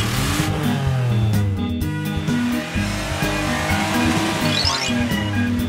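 Animated cartoon ambulance driving, with a steady engine hum, revving and tire squeals over a busy, continuous music-like background, loud and close throughout.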